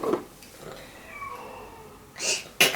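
A cat meows several times, short cries that stay fairly close, with quiet room sounds between them and a brief noise near the end.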